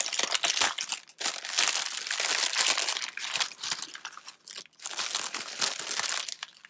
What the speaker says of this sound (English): Crinkle, let's just rip it off like a Band-Aid.